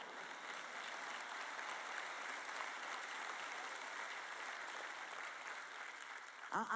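An audience at a sermon applauds steadily, a dense, even wash of clapping that holds at moderate loudness throughout before a voice breaks in at the very end.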